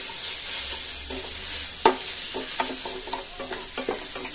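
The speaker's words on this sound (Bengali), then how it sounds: "এই যে বিট ভাজা চলছে" Beetroot frying in a pan gives a steady close sizzle, broken by a series of sharp spatula taps and scrapes as it is stirred.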